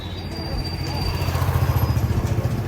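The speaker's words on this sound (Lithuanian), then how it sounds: "Važiuoja džipas." A jeep drives past on a street in India, its engine a steady low rumble that swells and pulses as it comes closer over about three seconds, with faint background noise around it.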